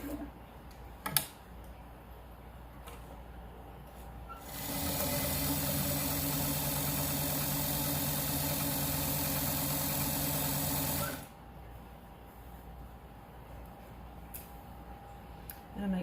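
A sewing machine stitches a fabric face mask in one steady, even whirring run of about six seconds, close and clear, with quiet handling sounds before and after.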